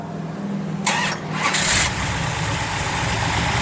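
A restored original 440 V8 in a 1967 Plymouth GTX Belvedere cranks briefly and catches, a loud burst of starter whine and combustion giving way to a steady, rumbling low idle that carries on to the end.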